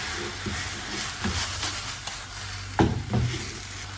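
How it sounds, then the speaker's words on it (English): Prawn hakka noodles with egg, sauce, pepper, chili and salt are stir-fried in a pan. A moderate sizzle runs under intermittent stirring knocks, and a sharper clatter of the utensil comes near the end. "Stir fry nicely."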